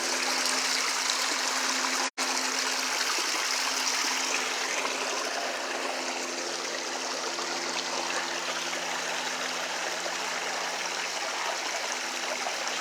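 Shallow stream water flows and trickles steadily around feet standing in it outdoors on a nature walk, a continuous close rushing wash with one brief sharp knock near the start.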